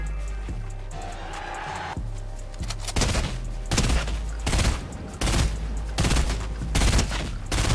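Rapid bursts of gunfire from Fortnite, a video game, crack through a steady low hum, loud, close and repeated in quick volleys with short pauses between them.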